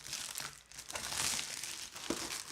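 Packaging being cut open with scissors during an unboxing, quiet close crinkling and crumpling of wrapping with a few snips, faint and brief with no talk.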